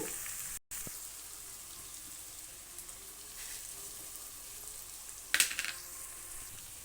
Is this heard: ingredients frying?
yes